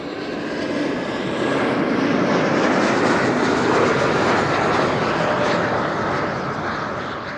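A KLM-operated Embraer 190 jet at Amsterdam Schiphol Airport, a broad roaring rush of engine noise that swells and holds loud as it passes fairly close, then eases slightly toward the end.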